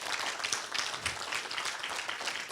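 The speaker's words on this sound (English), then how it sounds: "let's give Dan a round of applause" Audience applause at a talk on the mind and health issues, a steady wash of clapping from a small indoor crowd, fairly faint and continuous throughout.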